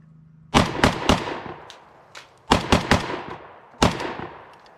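Loud, close AK-74 rifle shots in 5.45x39 crack out in quick bursts of two to four, separated by short pauses, each ringing briefly.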